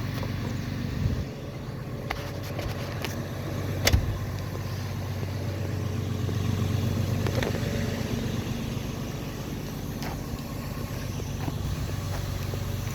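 A Cat 326 excavator's diesel engine idles while warming up, a steady low rumbling drone with a couple of faint clicks and a brief knock along the way.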